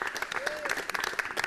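A studio audience at a Mauritius Broadcasting Corporation show claps in a dense, steady round of applause, close and lively, with a faint voice mixed under the clapping.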